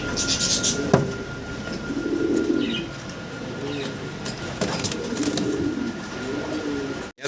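Andalusian pigeons coo in soft, low repeated phrases at a loft, with several rounded coos spread across the clip under faint background noise and occasional clicks.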